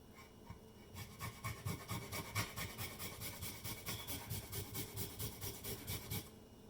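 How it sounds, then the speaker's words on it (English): About an inch of fresh ginger rubbed across a grater in quick, steady strokes, a fast rhythmic scraping that runs for several seconds and then stops, close and fairly soft. "I'm gonna grate ginger, about an inch."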